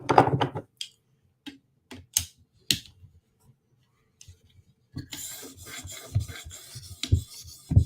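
A knife blade drawn across an 800 grit sharpening stone: short scraping strokes with pauses between, then a quicker run of rasping passes near the end, close and fairly crisp.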